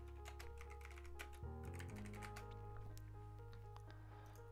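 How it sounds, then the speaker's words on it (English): Quick, irregular clicks of a computer keyboard as a name is typed, close and fairly quiet, with a faint low hum behind. "I gotta type his name in."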